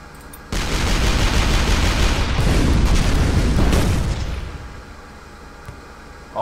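Tank weapon firing in the artillery game Shellshock Live, a sudden loud blast opening into a sustained roaring barrage of explosions for several seconds before tapering off; no speech.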